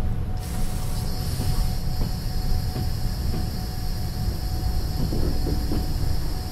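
A train in the Trans-Siberian Railway Simulator video game brakes toward a stop: a steady, loud low rumble of wagons with a constant metallic hiss and faint squeal layered on top, running throughout with no talking.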